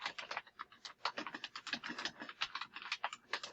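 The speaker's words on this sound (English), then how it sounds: "I'm just typing it" Quiet, rapid typing on a computer keyboard, with clustered key clicks in uneven bursts and short pauses, close and with no voices.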